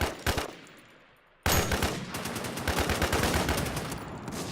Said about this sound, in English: Everyone just keeps fucking shooting me.